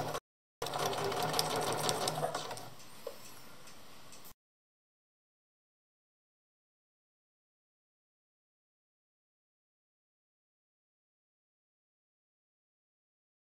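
A sewing machine stitches through thick fabric in a brief burst of fast, close mechanical clatter that slows to a softer hum, then cuts off into silence.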